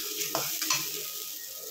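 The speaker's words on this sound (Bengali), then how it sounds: "এর মধ্যে আমি পেঁয়াজ বাটা যেটা ছিল সেটা দিয়ে দেব। দেওয়ার পর একটু নেড়ে নেব।" Onion paste fries in a hot pan with a soft, steady sizzle, broken by a couple of quick scraping stirs near the start. The whole is quiet and close.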